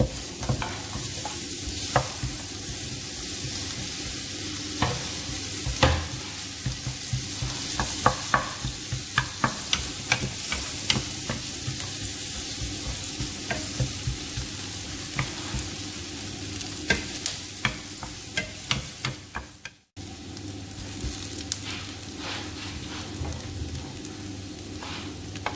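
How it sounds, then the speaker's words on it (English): Onion sautés in melted butter for squid in coconut milk, a soft continuous sizzle broken by frequent scraping stirs of a utensil against the pan, briefly dipping quieter near the end. "I already poured in the butter. Now I'm going to saute the onion."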